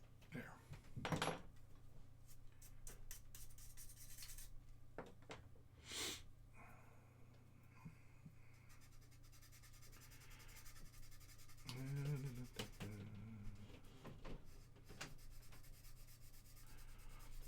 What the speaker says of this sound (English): Sanding. I don't know, maybe some of you enjoy the sound.